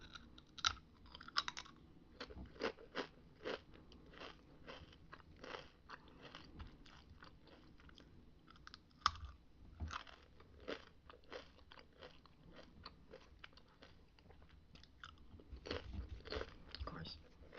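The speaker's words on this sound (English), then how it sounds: "I like the crunching noise that chips make." Potato chips crunch in sharp, crisp bites close to the microphone, with repeated chewing crackles in an uneven rhythm and a soft voice murmuring between them.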